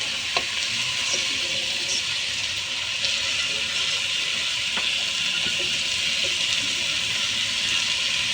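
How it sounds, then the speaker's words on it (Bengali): Vegetables fry in a pan for vegetable khichuri, giving a steady, dense sizzle that holds at an even level throughout, with occasional soft clinks and stirring scrapes underneath. "এই অবস্থায় আমি এখন সবজিগুলো ভেজে নেব"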